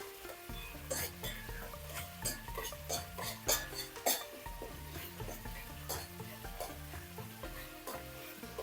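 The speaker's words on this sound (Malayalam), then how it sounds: "ഇതൊന്ന് വഴന്ന് കിട്ടട്ടെ" Masala sautéing in a pan while cooking potato rice, with a steady sizzle and repeated stirring scrapes and clinks close by, in the background a low melodic tone, no one talking.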